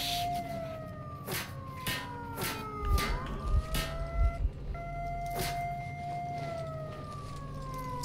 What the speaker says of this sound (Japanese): サイレン鳴らされた。